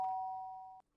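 A two-tone doorbell chime from the Danganronpa video game rings once, a clean sustained ding-dong that fades steadily and then cuts off, heard alone.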